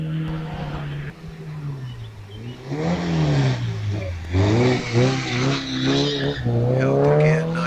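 A vintage sports car launches at a hillclimb, its engine revving and rising through a gear change with tyre squeal, loud and near, while a commentator talks over it.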